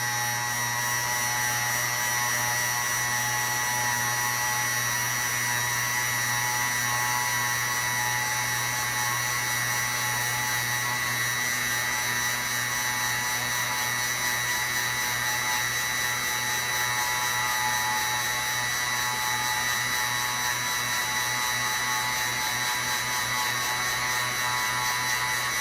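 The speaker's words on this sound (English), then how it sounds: "we're seeing a little smoke stuff here. That's telling me that I'm drilling." A drill bores into a labradorite cabochon with a steady high-pitched whine and grinding hiss, running continuously without pause at moderate volume.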